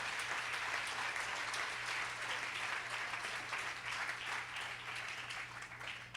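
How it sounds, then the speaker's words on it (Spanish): A church congregation applauding together, a dense, steady wash of clapping that holds for several seconds at a moderate distance before easing slightly at the end. "De un fuerte aplauso al Rey de gloria"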